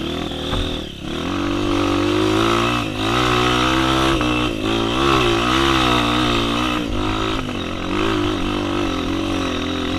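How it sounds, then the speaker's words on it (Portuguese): A Honda CRF 230 dirt bike fitted with a 240 kit and an aggressive camshaft revs loudly and close, its engine note rising and falling repeatedly over about ten seconds of sustained running. "CRF 230 com kit 240 comando bravo"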